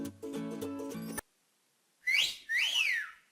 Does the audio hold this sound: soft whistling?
yes